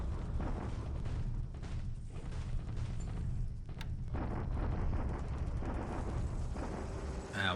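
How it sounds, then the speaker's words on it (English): Allied bombardment at Ambon in the War in the Pacific strategy game: a dense, continuous roar of booming explosions and rumbling detonations, loud and sustained throughout with no talking. "Allied bombardment at Ambon."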